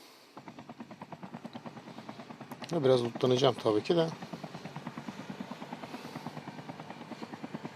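A video game helicopter's rotor thumps steadily throughout, with a louder burst of gunfire-like impacts in the middle and someone speaking over it.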